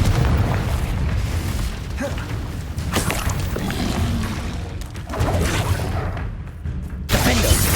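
A Confringo blasting spell in Hogwarts Legacy sets off heavy booming explosions layered with whooshing bursts and rumbling combat noise, loud and continuous with several sharp impacts.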